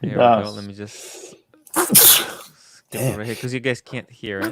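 A single loud, sharp sneeze bursts out between stretches of someone talking nearby.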